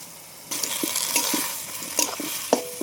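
Ivy gourd leaves drop into a pan of lightly fried garlic paste, bursting into a sudden close sizzle, followed by several stirring scrapes and clinks.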